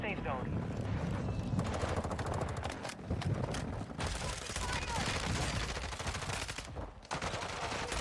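Gunfire in a tactical shooter video game, steady bursts and rapid shots running nearly throughout, loud and dense, with players talking over the shooting.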